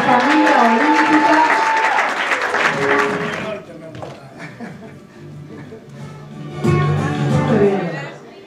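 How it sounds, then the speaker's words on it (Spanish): An audience applauds a family of Olympians at a national drawing and literature contest ceremony, clapping loudly for about three seconds before it thins into scattered claps and murmurs, then swells again briefly near the end with voices and some chuckles. "Le damos la bienvenida y un fuerte aplauso a esta familia olímpica."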